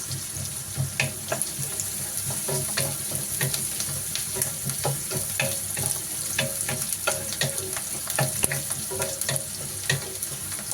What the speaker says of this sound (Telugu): ఆనియన్స్ బాగా ఫ్రై చేసుకోవాలి గోల్డెన్ కలర్ వచ్చేంత వరకు